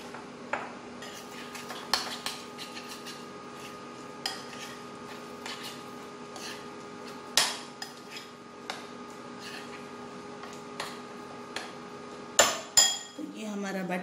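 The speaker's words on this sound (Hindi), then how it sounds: "इसमें थोड़ा थोड़ा करके पानी डाली है, इसको मिक्स कर लीजिए" A spoon scrapes and clinks against a bowl while pakora batter of bottle gourd, spinach and water is mixed, with sparse, irregular taps and stirs over a steady low hum.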